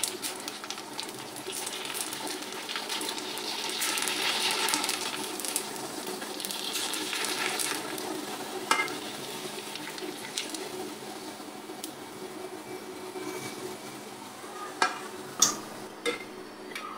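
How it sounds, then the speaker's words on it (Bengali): Fuchka puffs deep-frying in oil give off a soft, steady sizzling hiss throughout, with a few sharp clinks near the end. "এখন আমি ফুচকা ভেজে নেব।"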